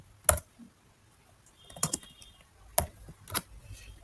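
Code being typed on a computer keyboard as a few sparse, crisp key clicks spaced irregularly in a quiet room.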